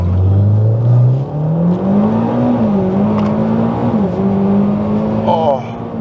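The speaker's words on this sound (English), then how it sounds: "one of the most incredible parts about this car has just got to be that off the line acceleration" A 2010 Mitsubishi Evo X launches hard off the line, its engine note climbing steadily and loudly through a gear change, heard from inside the car with a voice talking over it.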